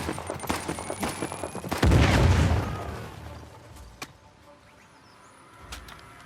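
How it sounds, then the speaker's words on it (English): Gunfire crackles in rapid bursts before a grenade goes off with a heavy, close boom in a video game firefight, the blast rumbling and fading, followed by a few scattered distant shots. "Live grenade!"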